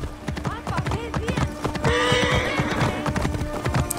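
Rhythmic hoofbeats of a horse galloping, joined by a loud, drawn-out neigh partway through, dense and close with game-like effects layered in, from an Assassin's Creed-style game.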